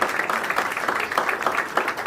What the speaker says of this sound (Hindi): जो अपने माता पिता से प्यार करता है वो ताली बजाए